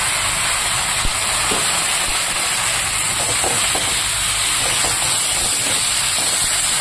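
Loud, steady hiss and crackle of cut bottle gourd and potato frying in hot oil, continuous sizzling with occasional small pops.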